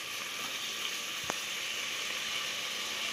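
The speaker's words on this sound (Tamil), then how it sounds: "இப்போ நம்ம இந்த தக்காளி போட்டுக்கலாம்." Tomatoes frying with softened onions in a pan while making chicken biryani: an even, continuous sizzle throughout, moderately loud and close, broken once by a single small click.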